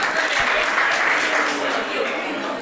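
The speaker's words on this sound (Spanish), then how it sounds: "Fuerte aplauso para la tremenda final, loco." A crowd claps and cheers after the final of a beatbox battle. The applause is loud and steady throughout, and an announcer talks over it.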